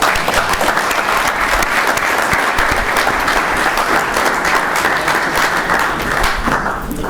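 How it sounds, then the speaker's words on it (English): At a board of education meeting, the audience gives a loud, sustained round of applause, many hands clapping close and dense before tapering slightly at the end. "Let's give them another round of applause."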